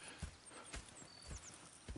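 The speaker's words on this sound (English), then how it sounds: "Go check the horses are ready." Horses in the video game Red Dead Redemption 2 clip-clop in a few slow, faint hoof falls against a quiet, hissy background.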